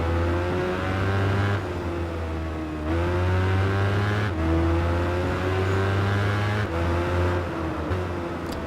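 An Aprilia race motorcycle engine in the Tourist Trophy racing game, a high, buzzing whine that climbs through the revs and drops back at each of several gear shifts, loud and steady with no voices.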